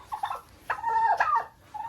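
Turkeys in a poultry yard give short, bubbling gobbles, a few quick rattling calls close by at moderate volume, with no talking over them.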